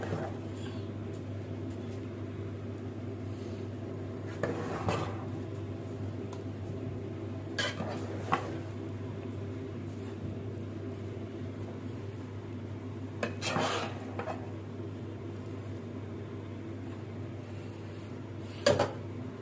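Mashed potato being spooned onto minced beef in a baking dish for a baked potato-and-beef dish, with several soft, scattered clinks of a spoon against the dish over a steady low kitchen hum.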